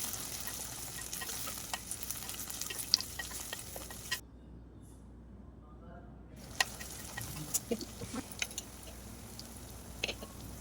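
Tomatoes and curry leaves fry in a pan for a Nellore-style fish curry, a soft, quiet sizzle with light stirring that drops out briefly in the middle before resuming.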